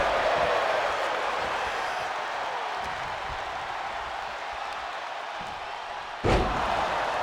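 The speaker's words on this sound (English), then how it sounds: "Oscar takes a suplex from Suna Bean." A wrestler is dropped onto the ring mat with a suplex at a Christmas-themed indie wrestling show, one sharp heavy impact late in the clip over steady crowd noise.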